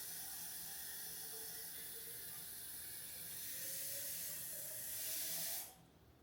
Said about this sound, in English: put some water in here.